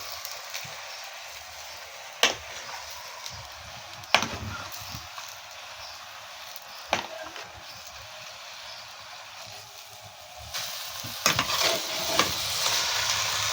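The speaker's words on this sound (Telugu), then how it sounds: "కలుపుకుంటే మంచిగా మాడకుండా అంటుకోకుంటుంటుంది. మధ్య మధ్యలో కలుపుకోవాలి ఉడికేంత వరకు." Amaranth leaf curry is stirred in a pan, a soft, continuous sizzle broken by a few sharp spoon scrapes and knocks against the pan, quiet and close with no speech.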